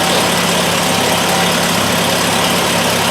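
A restored motor idles steadily through its exhaust, a constant, loud, close rumble with no pauses or voices.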